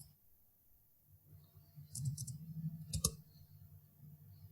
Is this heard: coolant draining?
no